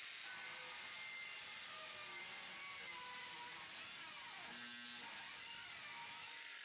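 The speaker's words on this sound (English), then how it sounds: "I'm going to cut straight through the back, do a plunge cut, and then make a little flap out of this." A DualTools CS450 dual saw with counter-rotating blades plunge-cuts through steel, giving a loud, high whining buzz with shifting pitch and a grinding drop partway through as the blades bite.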